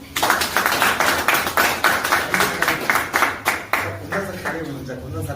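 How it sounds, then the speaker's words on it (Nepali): An audience claps in a quick, steady rhythm at a program in Kurseong, the sharp hand claps repeating evenly for several seconds with voices mixed underneath. "हाम्रो सरलाई जोरदार ताली"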